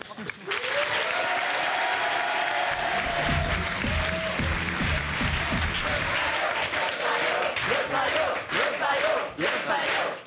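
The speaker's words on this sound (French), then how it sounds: "Applaudissements pour lui." A TV studio audience breaks into loud, sustained applause mixed with cheering and shouting, with a host's voice rising over the crowd at the start and chatter continuing as it fades.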